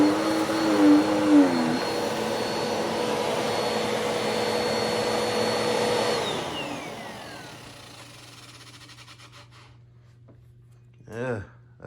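An upright vacuum cleaner, Bissell Cleanview or Hoover, runs with a loud steady whine and motor drone that winds down partway through, then fades to a low hum with a brief noise burst at the end; a voice is heard over it.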